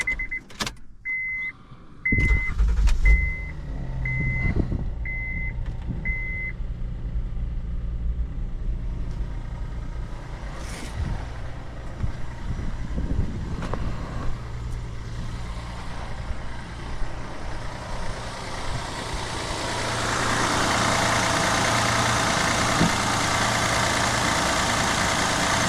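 A vehicle backing up, its reverse alarm sounding about seven evenly spaced beeps over an idling engine, followed by a steady motor rumble that swells louder toward the end.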